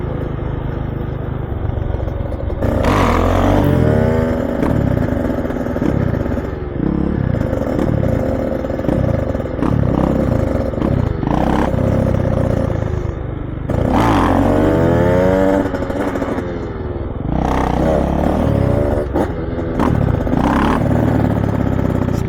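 BombMoto B1 electric and KTM 105 dirt bikes ride close by, with engines repeatedly revving and accelerating in loud, rising and falling surges, along with rattling clatter and no speech.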